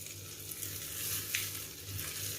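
Kashmiri chilli powder frying in hot tempering oil for a Kerala chembu moru curry, a close, steady crackling sizzle with faint stirring scrapes throughout.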